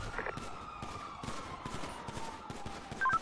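Gunfire aimed at police in a GTA roleplay shootout after a jewelry store robbery, a rapid string of distant-sounding shots crackling over a steady siren-like background tone.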